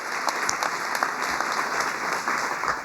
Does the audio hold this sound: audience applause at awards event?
yes